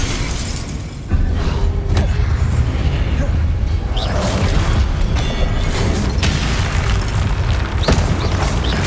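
Confringo blasting-spell explosions in Hogwarts Legacy gameplay, loud booming blasts and crashing debris layered over constant dense game noise, with a voice shouting spell names.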